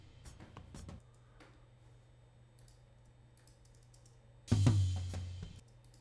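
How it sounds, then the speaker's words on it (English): A single rack tom drum hit lands loud and boomy near the end, preceded by a few light, scattered clicks over a quiet background. "This is the rack tom."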